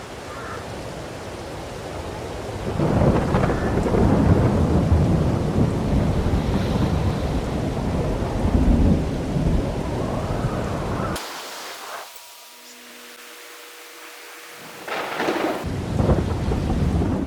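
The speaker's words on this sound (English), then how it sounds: "we'll wait out the rain" Farming Simulator 22 rain pours steadily with rumbling thunder rolling beneath it, then a sudden cut to a quieter stretch before the downpour returns.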